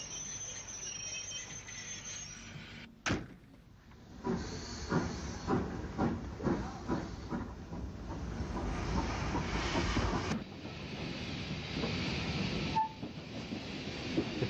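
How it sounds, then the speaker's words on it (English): A Southern steam train on the Headcorn extension pulls into Biddenden station in the early 1950s. Hissing steam and a soft rhythmic chuffing come with clanking carriages, steady and moderately close, with no talk. "The train from Headcorn arrives back at Biddenden"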